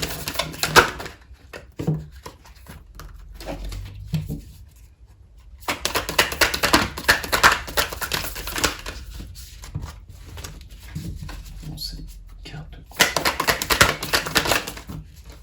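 Oracle cards being shuffled and drawn from a deck, a dense run of crisp papery riffling and tapping in bursts, pausing in near silence in between, close and fairly loud with no talk.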